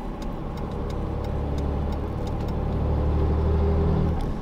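A car driving onto a highway from inside the cabin, with a loud, steady engine and road drone and a regular ticking like a turn signal, rising slightly toward the end.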